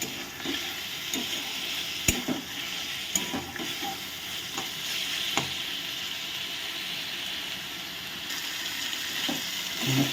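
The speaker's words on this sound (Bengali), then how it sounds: "ভালো করে কষিয়ে নিচ্ছি একটু জল অ্যাড করেছি পরে" Spice paste for a rohu fish curry sizzles in a pan while a spoon stirs it, with sharp scraping strokes and knocks against the metal over a constant hiss, heard close and without talk.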